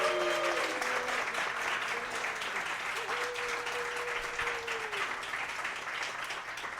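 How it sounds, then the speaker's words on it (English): A sold-out live show crowd in Washington, D.C. applauds steadily, with many hands clapping in a sustained, even wash. A voice speaks over the clapping early on. "A round of applause for yourselves, Washington,"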